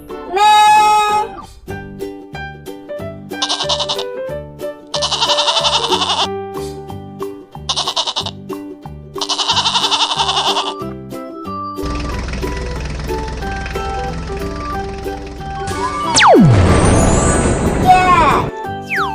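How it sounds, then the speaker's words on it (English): Goat bleats in several short, quick bursts amid farmyard noise, followed by a longer stretch of rougher sound and a louder closing cry, all near and fairly loud. "Goat. Goat says"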